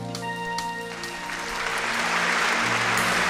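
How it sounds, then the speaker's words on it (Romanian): Audience applause at a 60th anniversary concert: the last sustained musical tones fade as clapping swells into dense, steady applause from a large crowd. "Artiștii zâmbesc când îi aplaudați."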